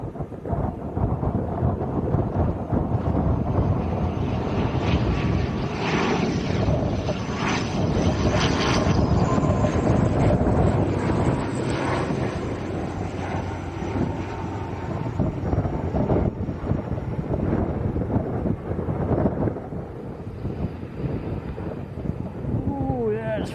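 An ATR turboprop airliner lands at Lanzarote Arrecife Airport in a gale, its loud propeller and engine roar blending with heavy gusting wind buffeting the microphone, the engine tone rising partway through.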